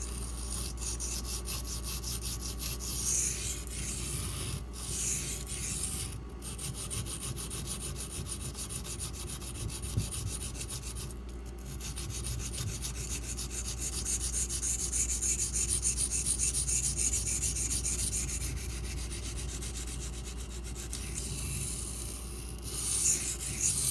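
A Benchmade Griptilian knife with a CPM-M4 steel blade is drawn across a sharpening stone in a continuous close rasping, rubbing sound. The sound runs steadily with brief pauses and no speech.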